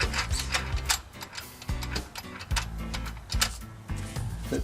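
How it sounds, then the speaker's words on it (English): A small electric throttle body motor on a 2000 Toyota Tundra pulling the butterfly, heard as a close mechanical whir with repeated clicking, ratcheting pulses at an irregular rhythm and no talking. "You can hear the little motor"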